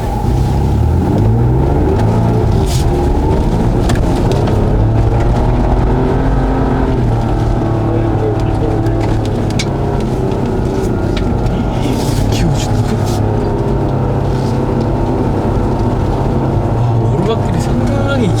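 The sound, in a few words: Ford Bronco driving down steep off-road slope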